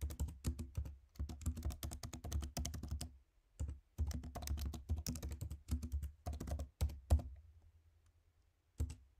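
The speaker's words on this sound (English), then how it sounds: "Now create a zip archive called requests-layer.zip that contains the" Someone types on a computer keyboard up close in quick bursts of rapid key clicks, separated by short pauses, ending with a few isolated keystrokes.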